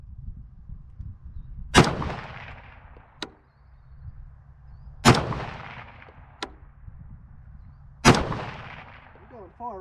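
Three loud, sharp rifle shots ring out a few seconds apart while hunting new land, each one echoing across open ground, with faint quieter knocks between them.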